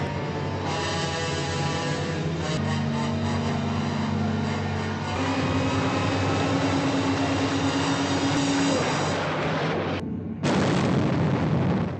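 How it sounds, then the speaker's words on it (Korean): A ship packed with gunpowder explodes after a collision in a film scene: a long, loud rumbling roar with sustained low tones, cut by a brief gap before another heavy blast. "충돌 후 화약과 함께 폭발하는 배."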